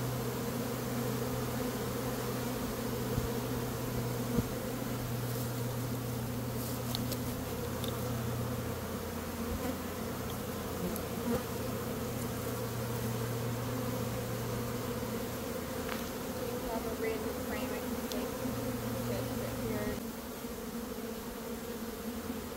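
Honeybees swarming and fanning at a hive make a dense, continuous buzzing drone, close and steady for over twenty seconds with a few brief louder passes of individual bees.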